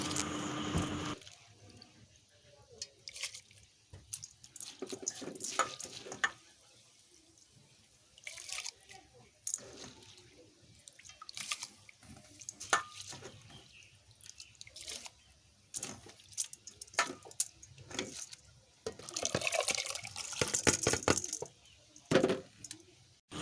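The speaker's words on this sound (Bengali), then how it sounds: "জলটা আমার গরম হয়ে গেছে ভাতটা করে নিই তার জন্যে চালগুলো তুলে দিলাম" Rice grains are tipped into a pot of hot water in a home kitchen, giving quiet splashes, drips and light scattering taps in irregular bursts, fairly faint and close, with a louder spell of pouring near the end.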